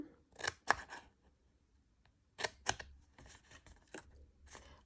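Scissors snipping along a marked line on paper for a crafting project, a few crisp cutting bursts separated by short quiet gaps, close and alone.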